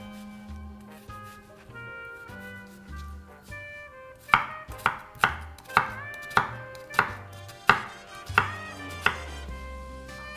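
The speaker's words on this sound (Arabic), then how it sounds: "بصل عادي هالبصل بفرمه ناعم" An ordinary onion finely chopped with a knife on a board for lentil soup: quiet handling at first, then a steady run of sharp, evenly spaced chops, close and distinct with no talking.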